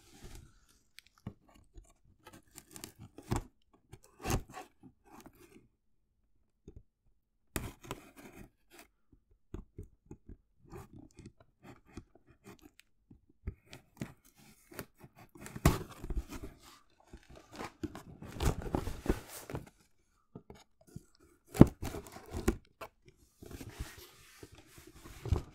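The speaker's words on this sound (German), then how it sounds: "Machen wir den Karton einfach mal auf." A cardboard box holding an AirWick Freshmatic air freshener is opened close to the microphone, with scattered crisp tearing, rubbing and crunching bursts, heavier toward the middle and end, and no talking.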